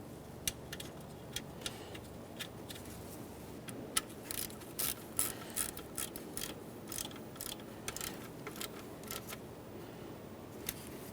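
A ratchet spins a 10mm nut onto the alternator power wire of a 2011-2020 Toyota Sienna, giving quick bursts of sharp metallic clicks over faint background hum, close and fairly quiet.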